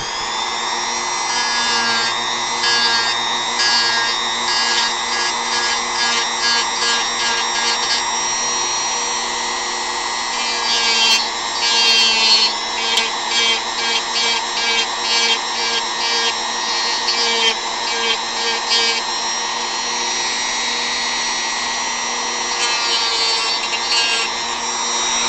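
Hand carving of a small wooden model foot, giving a continuous scraping and rubbing texture with slight rhythmic strokes, fairly close and steady throughout with no talking.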